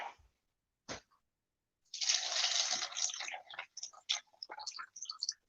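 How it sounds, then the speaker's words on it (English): VSOP cognac is poured into a glass, a close, splashing liquid trickle that begins after a couple of faint knocks and then breaks into uneven gurgles and drips. "Excuse me while I pour this VSOP cognac"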